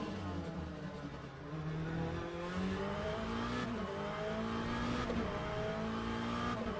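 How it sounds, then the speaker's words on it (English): An LM GT3 race car engine in a racing game drones and revs steadily, its rising and falling engine tones continuous throughout, fairly faint and alone. "This car, this engine sound, absolutely love this car."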